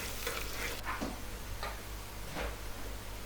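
Chopped onions for a pressure-cooker tomato biryani fry in a pan, turning pink then brown, with a steady close sizzle and a few scraping stirs throughout.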